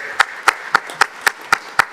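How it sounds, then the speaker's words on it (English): An audience at an NGO directors' summer retreat conference claps in steady unison, about four sharp claps per second, each beat crisp and even over a light room murmur. "Please, big round of applause, Mrs. Siraha."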